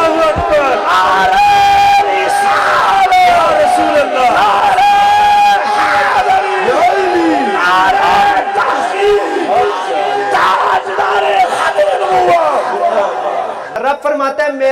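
A large crowd at a Mehfil Meelad religious gathering shouting a chanted slogan in unison, loud sustained massed voices in repeated waves that continue for the whole stretch.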